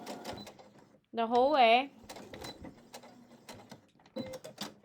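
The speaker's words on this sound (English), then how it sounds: "I just did a little back stitch there to kind of lock that down" A sewing machine stitches a quarter-inch seam on quilt fabric for a half-rectangle triangle block, running in one short whirring burst with a back stitch, while someone talks before and after it.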